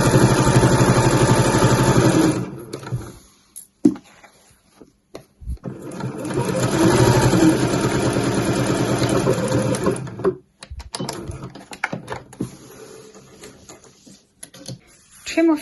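A sewing machine sewing an exterior pocket for a weekender bag runs loud and close in a couple of long rapid bursts broken by pauses, with a back stitch at the start and some quieter handling clicks between runs.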